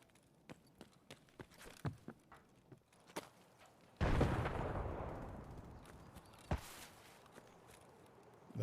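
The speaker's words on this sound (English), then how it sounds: "That was a shrapnel from a grenade landing, I'm pretty sure." Grenade shrapnel landing in the video game Escape from Tarkov: a loud burst followed by a long, fading rumble of debris, set among scattered light footsteps and small clicks.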